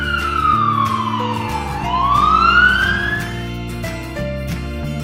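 A black toy police car's electronic siren wails in loud rising and falling sweeps with a sustained tone, alone over a steady low hum and soft background music.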